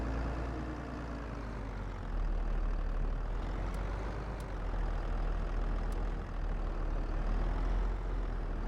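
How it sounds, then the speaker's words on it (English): A tractor engine idles in Farming Simulator 22 as it is parked, a steady low heavy drone that holds even and unbroken throughout, close and alone. "I don't think I need to use this tractor again today. So we're just going to park it up over here for now."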